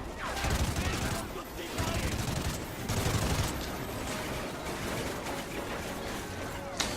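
Gunfire in the Call of Duty Ghosts video game: dense, continuous rattling shots and crashes layered into a busy battle mix, with a voice speaking over the top.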